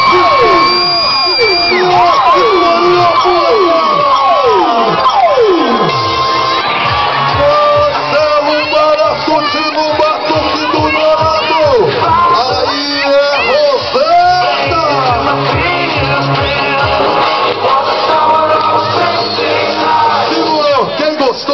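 A rodeo crowd at a bull-riding event shouts, whoops and cheers loudly and continuously, with an announcer's amplified voice carrying over the din.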